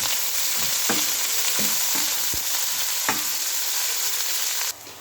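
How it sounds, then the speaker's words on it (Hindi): Onions frying in overheated oil for achaar gosht give a steady, close sizzle with occasional stirring knocks and scrapes, no voices, dropping slightly at the very end. "अब हम इसमें 2 अदद प्याज डालेंगे। हमारा ऑयल थोड़ा ज़्यादा गर्म हो गया है।"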